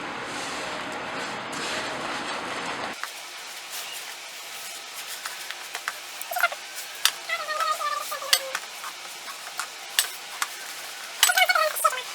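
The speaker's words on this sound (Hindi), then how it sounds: "और दूध डाल देंगे और हम इसे अच्छे से मिक्स कर देंगे।" Semolina biscuit dough mixed with oil and milk in a bowl, heard as a run of light scraping and sticky stirring clicks after a brief steady noise at the start, close and without talk.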